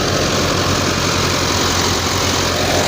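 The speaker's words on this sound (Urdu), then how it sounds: "کھینچ رہا ہے، تھریشر کو کھینچ رہا ہے" Close and loud, a 385 tractor engine drones steadily with deep rumble and vibration as it pulls a wheat thresher, one unbroken mechanical roar.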